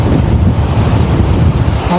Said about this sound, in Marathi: लाटा बघा कशा येतात.